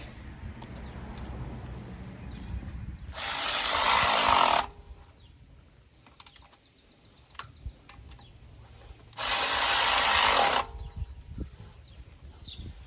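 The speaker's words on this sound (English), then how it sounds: "I'm using a ratchet because I'm speeding things up, but you can use a regular wrench" A ratchet drives the valve cover bolts on a 2010 Kia Soul in two loud, buzzing bursts of about a second and a half each, separated by quiet pauses with faint handling clicks.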